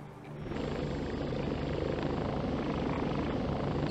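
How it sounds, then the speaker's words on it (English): Helicopter flight in the VR video game Warplanes 3 Air Corp, a loud continuous rotor and engine roar that sets in after a short quiet start and holds steady to the end, with no talk. "And again, I'm going to use the helicopter."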